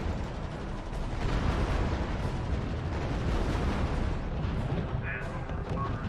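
Heavy artillery barrage in the strategy video game R.U.S.E., a dense continuous rumble of overlapping booms and blasts filling the whole stretch at steady loudness.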